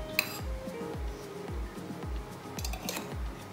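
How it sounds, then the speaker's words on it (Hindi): Metal pan set down and handled on a stovetop while preparing oats uttapam, with a sharp clink followed by repeated low thuds and light scraping knocks throughout. "सबसे पहले हम एक पैन लेंगे, उसको थोड़ा ऑयल डालेंगे उस पर"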